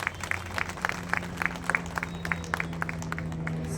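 An audience at a public gathering applauds, a steady wash of many hands clapping at moderate distance that continues throughout without a break.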